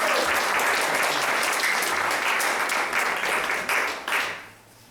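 An audience claps loudly and steadily at a gathering about reestablishing roots in the land of the Lenape, the applause holding for about four seconds before tapering off and fading out.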